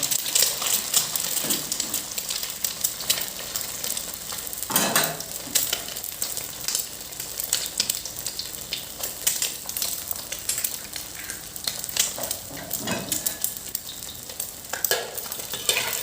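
Oil crackles and sizzles steadily in a hot pan as an egg fries alongside a Thai basil stir-fry with pork, with occasional louder bursts of spattering close by.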